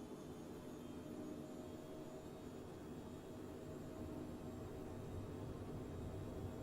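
Jet engines of an Embraer Phenom 300 spool toward takeoff thrust in Microsoft Flight Simulator 2020, heard as a faint, steady, broadband roar with a thin high whine running unchanged throughout, with no talking.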